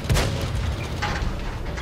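A tank's main gun fires in the World of Tanks console game, one sharp booming report at the start and a second, softer blast about a second later, with battle noise between them.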